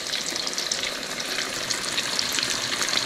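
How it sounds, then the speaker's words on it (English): Fish pieces coated in tempura batter frying in a pan of hot oil, a continuous loud crackling sizzle without pause. "Y'all see them frying?"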